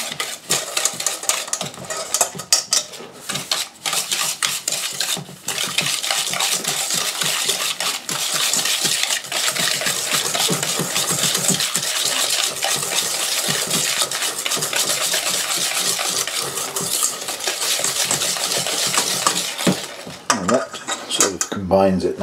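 Two eggs beaten by hand into sticky toffee pudding batter in a bowl at a cabin, with a dense, continuous clatter of a utensil whisking against the bowl and brief pauses between bursts.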